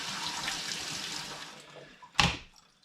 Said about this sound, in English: I'm just going to give my mushrooms a little rinse under the kitchen tap.